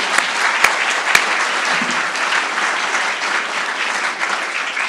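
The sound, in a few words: audience applause at a convocation ceremony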